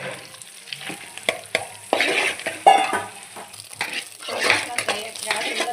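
Fish coated with cumin powder, coriander powder, salt and chili powder fries in a pan, with an uneven sizzle, spatula scrapes and utensil clinks, the sizzle swelling and dropping as it is stirred.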